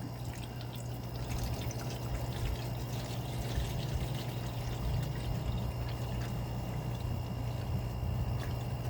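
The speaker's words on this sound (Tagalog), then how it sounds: "So lagyan ko lang muna siya ng tubig." Water pours steadily into a vending machine's water tank, a continuous close splashing trickle that holds an even level throughout, with no voices.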